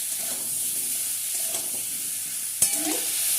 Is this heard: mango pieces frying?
yes